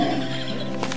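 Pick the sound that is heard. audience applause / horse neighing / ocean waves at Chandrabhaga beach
horse neighing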